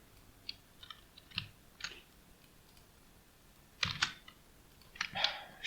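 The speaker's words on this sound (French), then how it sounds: "Je vais y arriver à arrêter de batailler avec mon clavier" Someone types on a computer keyboard in scattered short bursts of clicks, quiet at first and then busier toward the end, close and without speech.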